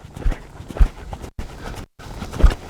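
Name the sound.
horse hooves moving sideways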